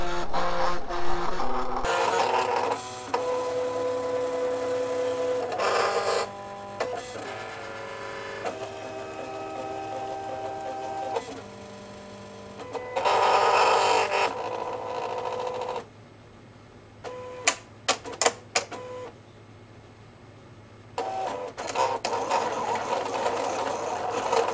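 A Silhouette Portrait 3 cutting machine cuts sticker paper without a mat, with whirring motor runs and buzzing carriage moves separated by pauses, and clusters of quick clicks near the end.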